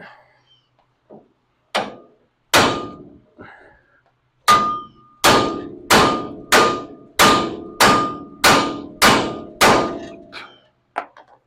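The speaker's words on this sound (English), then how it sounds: "we're going to go up against the spindle here and give it a couple good whacks and see if this will separate" A ball peen hammer strikes the spindle of a Dodge D100 during ball joint removal, sounding about a dozen sharp, loud metallic clanks with ringing tails, widely spaced at first and then landing in a steady rapid rhythm.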